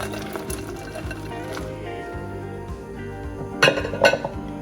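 Tortellini go into a pot of vegetable soup with spinach, giving soft splashes and liquid sloshing over a low background, followed by two sharper clinks near the end.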